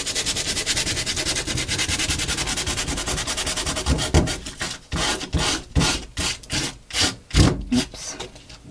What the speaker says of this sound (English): I'm going to just take some sandpaper, and I'm going to sand some of that painted image away